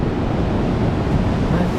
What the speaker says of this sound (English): my god, look at the surf over there